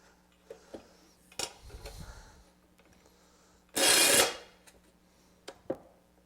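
A metal clamp being fitted onto a glued-up wooden end grain cutting board, with scattered light clunks and taps and one loud, close scraping burst lasting about half a second partway through.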